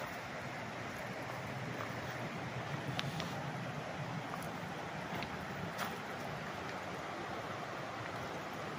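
Strong current of a river in Magdalena, Laguna rushing past the bank, a faint, steady broadband wash with slight wind buffeting and no talk.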